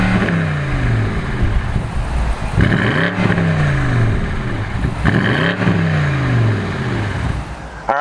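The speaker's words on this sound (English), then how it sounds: "let's go ahead and fire up this twin turbo V8." The twin-turbo V8 of a 2019 BMW M850i is fired up and revved hard. It climbs in loud, close, repeated rising sweeps that fall back to a steady idle.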